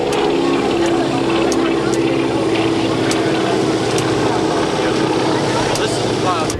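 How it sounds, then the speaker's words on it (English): Four-engine propeller aircraft with its engines running, a steady loud droning roar with low rumbling harmonics filling the whole stretch; speech is faint beneath it. "Does it have a switch on the radio type thing there to start all 4 engines, or just one at a time?"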